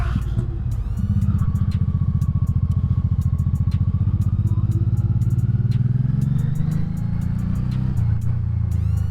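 A 1986 Honda Shadow 700cc cruiser motorcycle's engine rumbles steadily while riding, a loud continuous low drone with wind noise and a rising whine as it pulls along.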